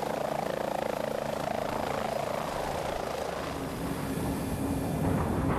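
A helicopter escorting ships through Arctic sea lanes flies overhead, its rotor making a loud, steady thumping chop over a constant engine roar that holds throughout.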